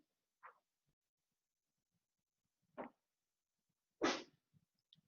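A person sneezing during a math lesson, a few short sharp bursts spaced apart in an otherwise quiet room, the last one loudest.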